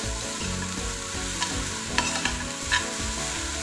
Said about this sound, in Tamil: வெல்லம் போட்டு நல்லா இந்த மாதிரி கலந்து விடுங்க